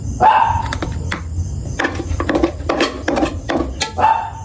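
Several dogs barking close by in quick, overlapping bursts, loud and excited as they wait to be fed, with short pauses between volleys.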